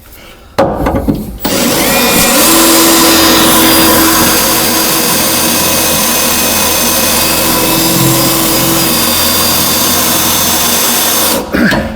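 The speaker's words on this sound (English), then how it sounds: "I'll follow up with my dulled out step drill here." A loud, steady power-tool whine runs nearly continuously, a dull step drill grinding into the metal of a rusty Ford F-150 truck with a sustained high-pitched tone, starting and stopping abruptly.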